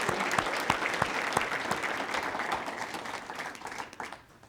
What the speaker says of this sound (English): Can we give a round of applause for Bishop Olmsted?